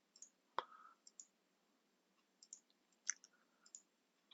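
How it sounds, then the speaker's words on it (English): Computer mouse clicks in a quiet room, one sharp click followed by a scattering of faint, soft clicks spread irregularly through the stretch, close and unaccompanied. "Click on run."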